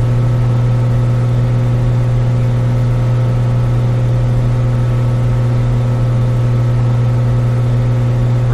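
Flight Simulator X aircraft engine at full takeoff throttle, a steady, loud, unchanging drone with a strong low hum that holds constant throughout, with no voices.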